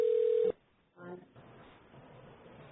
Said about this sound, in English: I don't know why we're ringing.